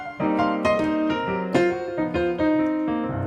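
Piano playing a harmonized turn in a lounge jazz style, a short flowing run of stacked chords rolling up and down, clear and close with ringing sustain.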